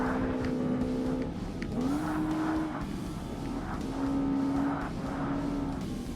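Ultra-light class race car engines in Forza Motorsport on Xbox, a steady droning whine with rising and falling pitch as another car follows closely behind, continuous and fairly loud, no talking.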